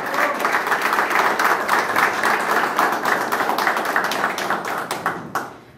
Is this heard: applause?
yes